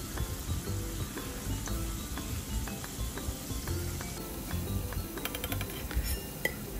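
Potatoes frying in oil on a high flame while preparing Bengali mutton kosha, a continuous sizzle with occasional clinks of a utensil against the pan.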